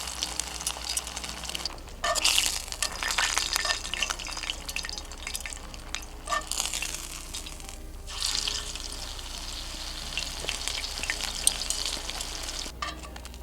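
Breaded fish frying in a pan at a camp in a truck camper, a continuous crackling sizzle with popping spatters and a few louder bursts, close up, steady throughout with a low hum beneath, no talk.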